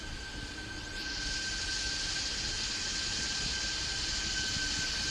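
Jetpack flight in a 3D Indian bike riding video game: a steady, loud airy rush with a thin whistling tone that swells after the first second and holds on without break, with no voices.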